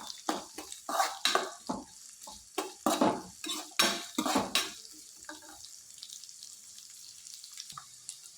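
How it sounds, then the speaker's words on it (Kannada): Onion fries in a pan for masala idli fry, with a quick run of clattering, scraping stirs over a soft sizzle that then settles into quieter hissing. "ಈಗ ಇದನ್ನು ಫ್ರೈ ಮಾಡ್ಕೊಳ್ಳೋಣ. ಈಗ ಈರುಳ್ಳಿ ಹಾಕ್ಕೊತಾ ಇದ್ದೀನಿ."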